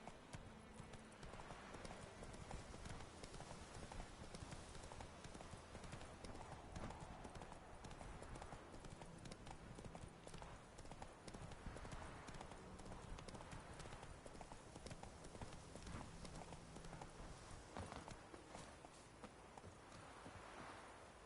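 Rapid clip-clop hoofbeats of Roach the horse galloping in The Witcher 3 run continuously and close for the whole stretch, with some game ambience and speech beneath.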